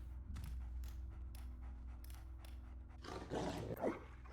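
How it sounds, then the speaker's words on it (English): Guard dog in the stealth game Thief Gold, a fan mission, giving a low snarling growl that swells near the end over steady ambient game background. "Can you knock out the dog?"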